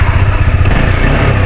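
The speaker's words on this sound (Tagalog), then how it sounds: "First time kong idaan itong motor natin dyan sa ganyang daan." A motorcycle engine runs steadily on a rough road, a loud, close, low rumbling drone that holds without break.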